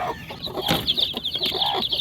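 Several chickens cluck close by, overlapping short calls and a higher squawk, busy and continuous with no talking.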